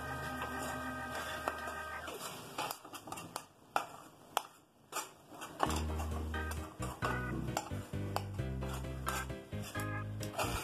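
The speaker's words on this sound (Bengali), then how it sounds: "এলাচ গুঁড়োটা দিয়ে ভালো করে নাড়াচাড়া করে নিতে হবে" A coconut barfi mixture of milk and sugar being stirred in a pan, giving soft repeated scraping and clinking of a utensil against metal, steady and close with no talk.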